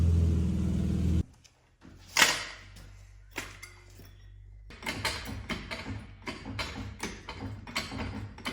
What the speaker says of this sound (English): Quite a blowing exhaust.